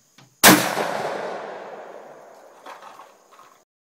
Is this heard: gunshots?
yes